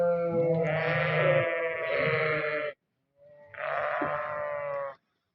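A flock of sheep bleats loudly and close by at feeding time on a farm, with overlapping cries forming two long bursts separated by a short pause.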